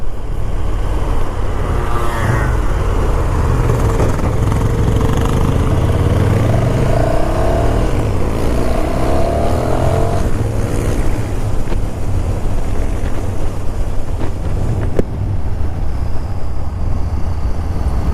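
The engine of a KTM 1290 Super Duke R motorcycle drones and rises in pitch while ridden on the road. It is heavily masked by steady, loud wind buffeting on the microphone throughout.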